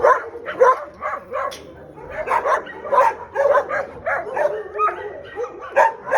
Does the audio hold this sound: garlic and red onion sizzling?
no